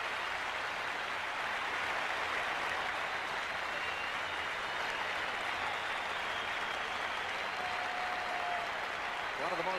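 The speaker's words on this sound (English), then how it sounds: "He's getting a standing ovation." A stadium crowd at a 1981 NFL football game between the Washington Redskins and St. Louis Cardinals gives a player a standing ovation, with loud applause and cheering that stays steady and dense through the whole stretch.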